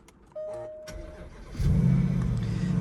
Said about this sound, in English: I'm going to start the car up, and we do that with the foot on the brake and press the start button